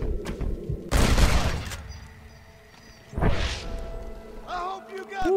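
Gunfire in Red Dead Redemption comes as two loud close bursts of shots and booms with quieter stretches between them, and someone talks over the end.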